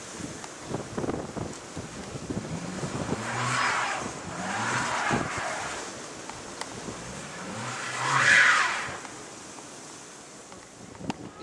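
A car stuck in deep blizzard snow revs and spins its tires trying to drive out, the engine surging and falling in repeated efforts under heavy gusting wind noise.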